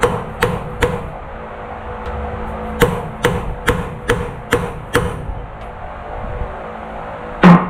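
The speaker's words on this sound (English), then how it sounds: "Real hammer." A real steel hammer striking metal while fitting a pilot bushing installation tool on a 1959 farm truck in a shop, about ten sharp ringing blows in an uneven series, then a final heavier clank.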